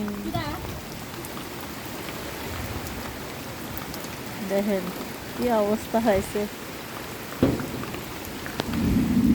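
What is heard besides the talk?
heavy rain with thunder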